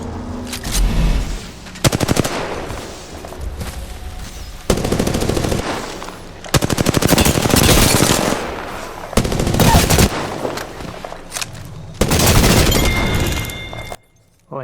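Gunfire in Apex Legends comes in repeated loud bursts of rapid automatic shots, several volleys separated by short pauses, all close and dense.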